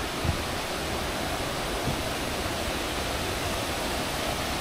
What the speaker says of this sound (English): I can hear the waterfall closer and closer now.